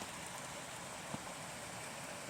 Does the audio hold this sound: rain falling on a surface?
yes